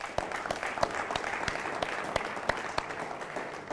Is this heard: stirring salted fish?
no